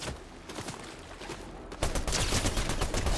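Rapid bursts of gunfire in a shooting video game crackle loudly, with a sparser stretch of shots before a denser, louder volley of automatic fire in the second half.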